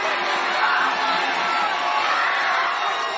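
A traveling high school volleyball crowd from Santa Ana cheers, yells and whoops loudly and steadily in a gym, a dense wall of voices with no breaks.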